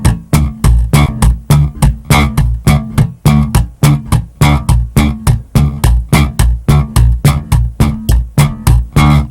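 A funk bass guitar is struck with a flat hand slapping against the strings, giving rapid, percussive hits in a tight repeating rhythm, loud and close, with no talking.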